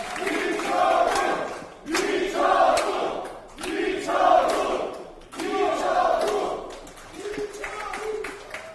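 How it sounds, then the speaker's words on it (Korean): A crowd at a People Power Party political rally in Daegu and Gyeongbuk shouts and cheers in loud rhythmic chant-like bursts, about five repeated waves separated by short pauses, with scattered clapping mixed in. "박수로 모시겠습니다."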